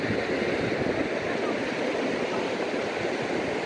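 Sea waves wash steadily onto the Konkan shore near Kunkeshwar, a continuous broadband roar of surf with no distinct breaks, close and moderately loud.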